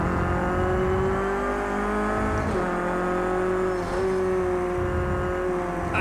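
Race car engine in Project CARS 2, a loud continuous high-revving drone with steady harmonics and small dips at gear changes, close and sustained throughout without speech.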